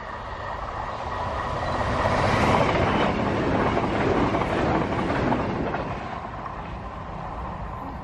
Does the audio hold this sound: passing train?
yes